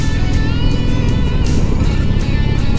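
A vehicle on an open road on a December Sunday, with a steady loud engine drone and wind rush holding constant throughout, no voices.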